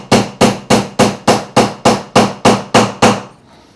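Jewellery hammer striking metal ten times in an even, steady rhythm, each blow a sharp, close metallic tap with a short ring, texturing the surface with stripes; no talking.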